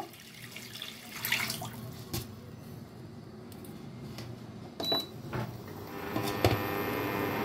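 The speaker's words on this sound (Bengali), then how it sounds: "এখন আমি এই একই পাত্রের মধ্যে 1 কাপের মতো জল অ্যাড করে দেব।" About one cup of water is poured into a cooking pot while making semai halwa, a brief watery splash and trickle at moderate level near the mic, with a few small clinks of the pot.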